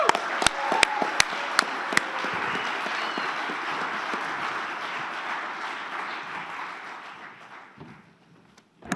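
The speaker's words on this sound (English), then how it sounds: "A big applause" Sustained audience applause at a space conference closing and awards ceremony, dense clapping at moderate loudness with a few sharper claps early, slowly fading away toward the end.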